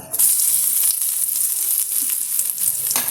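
Chopped garlic dropped into a hot pickle mixture frying in a pan, a loud continuous bright sizzle with a few stirring scrapes and pops, close and steady without speech.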